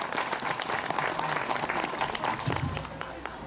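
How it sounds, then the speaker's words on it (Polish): At an outdoor Three Kings procession, a crowd gives a short burst of applause for the actors, steady, somewhat distant clapping with speech mixed in and faint street ambience. "Kochani, wielkie, wielkie brawa dla naszych aktorów."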